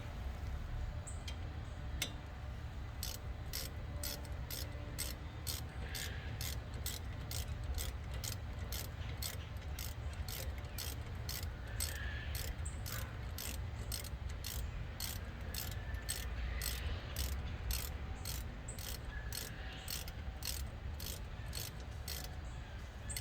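Steady ratchet clicks run throughout, a rapid even train of pawl ticks as a hand ratchet snugs the brake bolts on a Nissan Titan during a PowerStop front rotor and pad install, with a low hum underneath.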